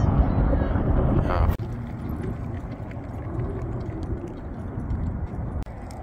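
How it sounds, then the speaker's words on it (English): Strong wind blows steadily outdoors at a hot air balloon fiesta, a loud continuous rumble buffeting the microphone, with brief breaks in the gusts and a person talking over it. "the wind is really blowing down here"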